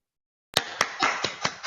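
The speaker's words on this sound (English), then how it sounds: "Round of applause for John." A handful of online meeting participants clap after unmuting, giving about six uneven, close-miked claps that overlap slightly, starting abruptly after half a second of digital silence.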